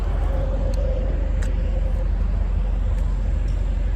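A car travelling on a long highway road trip toward New York gives a steady, loud rumbling road and engine drone throughout, with no talking heard.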